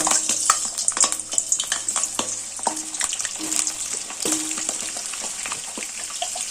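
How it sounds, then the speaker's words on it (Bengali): Whole potatoes frying in hot mustard oil in a wok, with turmeric and salt added, give a steady bright sizzle broken by frequent crackles and pops, close and fairly loud throughout. "এবার এই তেলে আলুটা ভেজে নেব"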